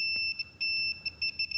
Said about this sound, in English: So it will beep when there's continuity.